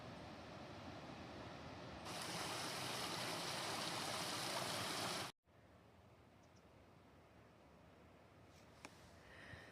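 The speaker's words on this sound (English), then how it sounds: "Down there is Punch Bowl Falls." Punch Bowl Falls on Eagle Creek makes a steady broadband rush of falling water, louder for a few seconds mid-clip, then a softer, continuous roar after a brief cut.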